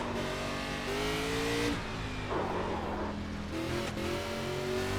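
A NASCAR race car on the Chicago street course in NASCAR 25, its engine droning loud and steady, rising and falling in pitch as the throttle is worked, with a brief rough, noisy dip in the middle and no voices.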